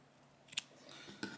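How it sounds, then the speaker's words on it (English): Scissors snip through yarn during crochet work on a swirly tam: two quiet, crisp cuts, close by, in a hushed room. "So I'm going to cut my yarn shorter,"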